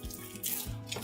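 Tap water runs into a bowl of stiff noodle dough, a short, soft gush that starts and swells quietly in a kitchen.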